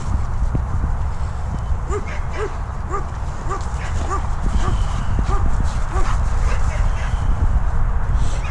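A dog barks repeatedly in short yapping bursts amid background noise and clattering, fairly close.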